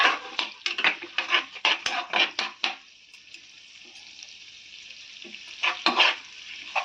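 Chopped garlic sautéing in a pan for a Japanese-style chicken dish, with a run of close spoon scrapes and clinks against the pan over a gentle sizzle that quiets before a few more stirs.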